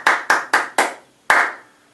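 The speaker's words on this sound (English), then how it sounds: "the way that you start out practicing this is by clapping" Hands clap out a practice rhythm close up: four quick, evenly spaced sharp claps, a brief pause, then one final clap, each crisp and alone with no talking.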